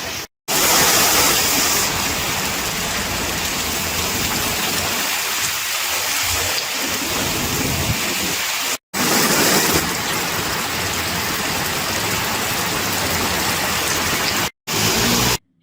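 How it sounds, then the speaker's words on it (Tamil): Heavy rain in Chennai comes down as a loud, continuous hiss of water, broken by a few abrupt cuts to silence. "இப்போது தமிழக கடற்கரையோர மாவட்டங்களில் கனமழை பெய்ய துவங்கிவிட்டது."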